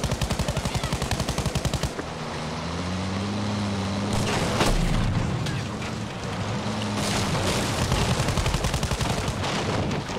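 Gunfire and explosions in the shooter game Battlefield V: rapid automatic bursts open and close the stretch, with a rumbling engine drone and a heavy blast in the middle, heard loud and close.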